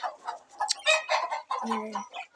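A chicken in a coop clucks and squawks close by in rapid, uneven bursts, with a short drawn-out call near the end.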